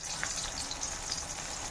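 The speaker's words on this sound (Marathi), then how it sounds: "तेल गरम झाले, कांदा टाकला. कांदा फ्राय होत आहे." Onion and tomato frying in hot oil with crushed garlic and cumin, a soft, steady crackling hiss with faint pops, quiet and continuous throughout.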